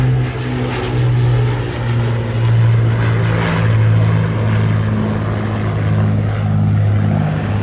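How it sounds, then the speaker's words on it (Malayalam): A propeller airplane flies past at an air show over Eastbourne beach, its engine a steady, loud droning hum that swells slightly and holds throughout, with no talking. "വിമാനം ഇങ്ങനെ പറന്നു പോകുന്ന കാഴ്ചയാണ് കാണുന്നത് ആ തൊട്ടടുത്തു കൂടിയാണ് നമ്മൾ വിമാനം ഇങ്ങനെ പോകുന്നത് എയർ ഷോ ആണ്"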